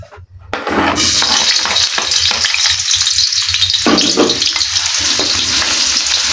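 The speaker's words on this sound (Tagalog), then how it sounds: "magigisa na tayo ng luya, bawang, sibuyas, kamatis." Ginger, garlic, onion and tomato hit hot oil with a sudden loud burst of sizzling, then keep frying in a dense, steady crackle with scraping stirring sounds.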